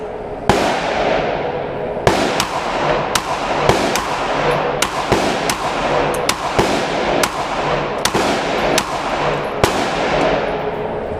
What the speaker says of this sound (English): Alright, first shots, the Glock 19.